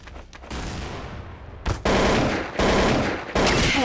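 Rapid gunfire in Counter-Strike: Source, loud bursts of automatic shots with short gaps between them, close and dense.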